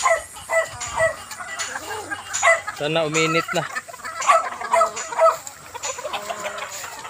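Chickens cluck and a rooster crows in a backyard coop on a Sunday morning, with busy overlapping bird calls close by while a person speaks briefly.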